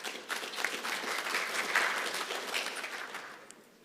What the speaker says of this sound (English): A round of applause for Engineer Vic.